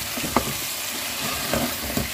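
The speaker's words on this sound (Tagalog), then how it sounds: "lutuin muna natin ng ilang minuto ang ating tomato paste" Tomato paste cooking in a hot pan for okra with lamb, a steady close sizzle with a few stirring scrapes and clinks, no talk.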